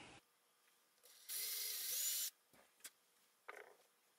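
A drill bores a screw hole in a cedar-bodied Telecaster guitar, a loud whirring burst of about a second, followed by scattered clicks and handling noises.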